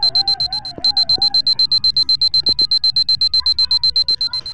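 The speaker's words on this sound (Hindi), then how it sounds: "इसमें तो टाइमर भी चल रहा है, ये कुछ ही टाइम में फूटने वाला है सर।" A bomb's timer alarm in a CID crime drama beeps rapidly and evenly, loud and close, in a long continuous run with faint background sounds beneath.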